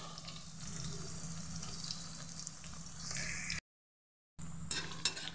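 Thinly sliced onions frying in plenty of hot oil for crisp birista, a steady close sizzle and crackle that cuts out abruptly for under a second, then returns.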